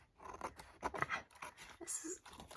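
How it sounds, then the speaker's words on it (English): Scissors snip and scrape along wrapping paper being trimmed for a Christmas glue book, a run of quick close cuts mixed with rustling paper and someone talking. "This is a harder side to trim because I can't get my scissors right up against the edge."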